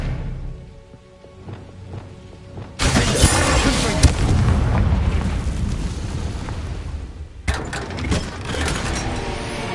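The Expelliarmus spell fires in a Hogwarts video game with a sudden loud blast and a crackling, rumbling burst that holds for several seconds, then a second abrupt surge later.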